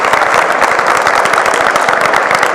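An audience at a net-zero manufacturing design conference applauds the moderator: a loud, dense, continuous roar of many hands clapping, with no pause in the rush.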